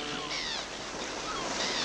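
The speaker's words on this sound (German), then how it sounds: "Und hier ist das Meer." Sea waves wash onto the beach in the video game Autos bauen mit Willy Werkel, a steady soft surf rush with faint wind, heard alone and fairly quiet.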